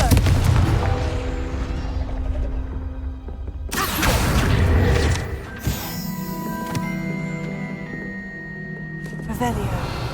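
Confringo fire spell blasts in Hogwarts Legacy, loud booming explosions and crackling bursts layered with game effects and a voice over the action.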